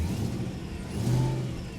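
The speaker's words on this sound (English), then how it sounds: "We'll give it a little gas." A Mercedes E55 AMG with a faulty charging system idles with a low rumble, then a brief light blip of throttle lifts the engine note for a moment before it eases back.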